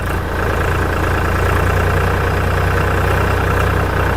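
A tractor engine runs steadily in second gear, a loud, close, low-pitched diesel drone with even throb that holds without break for the whole stretch, no voices over it.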